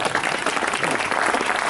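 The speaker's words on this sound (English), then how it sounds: "Yeah, give him a round of applause" A crowd at a locomotive works open day applauds in a steady, dense burst of clapping, fairly close and sustained throughout.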